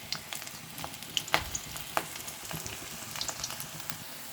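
Ivy gourd (kovakkai) pakoda batter fries in hot oil, giving a close, continuous bubbling sizzle scattered with sharp crackles and pops, with no voices.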